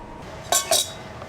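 A spoon clinking twice against a container while scarlet fabric dye is mixed, two bright, close metallic taps in quick succession with quiet room tone around them.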